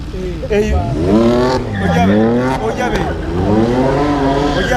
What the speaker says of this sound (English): Yes, that's the BMW. BMW M4, BMW M4.